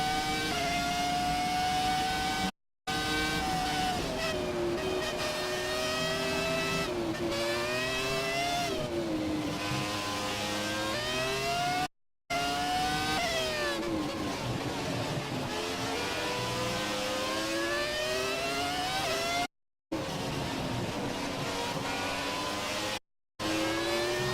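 A high-revving V10 Formula 1 car engine in a video game roars continuously, pitch rising and falling with gear changes, broken by a few brief silent cuts.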